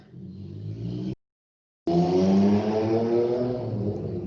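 A small Garelli motorcycle passes outside, its engine a loud buzzing drone with rising harmonics, cut by a brief silent gap before returning close and strong, then slowly easing off.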